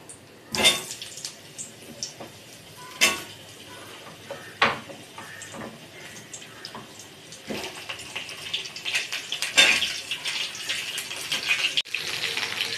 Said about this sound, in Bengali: তেজপাতা, শুকনো লঙ্কা দিয়ে এবারে আলুগুলো ছেড়ে দেবো।